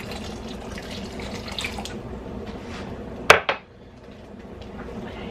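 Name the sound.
turkey broth being poured into gravy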